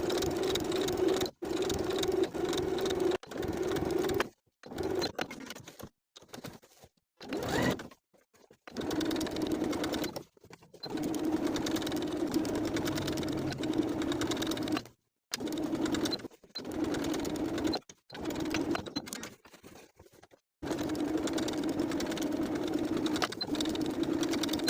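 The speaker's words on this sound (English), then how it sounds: "start a fresh set of stitches to understitch around the neckline" A sewing machine understitches around the neckline of a women's wool jacket, running in a steady, loud whir broken by many brief stops and restarts.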